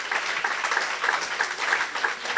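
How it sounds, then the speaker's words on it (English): Steady applause from a crowd, many hands clapping at once in a dense, even patter. "a huge round of applause"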